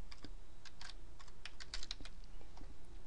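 Typing on a computer keyboard while working in Excel: a steady run of quick, close key clicks with uneven rhythm and no talk over them.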